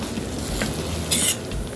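A spoon stirs egg into leftover fried chips in a hot pan, making a soft scraping sizzle with a short bright hiss partway through.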